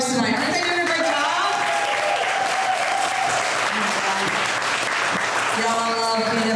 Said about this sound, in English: clap it up for all our comics tonight